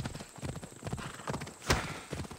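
Rapid hoofbeats of a galloping horse in Assassin's Creed Odyssey, ridden through town: close, even clip-clop strikes with a brief sharp impact sound partway through.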